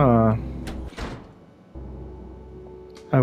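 A cafe door opening in Resident Evil 2, with a short creak and thunk amid dark ambience, framed by low droning tones at the start and end.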